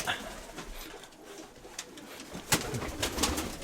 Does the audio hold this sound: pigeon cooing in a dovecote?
yes